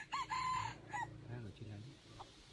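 Wild junglefowl in a forest crows once nearby, a strong drawn-out call with a short tail, followed by softer clucking notes.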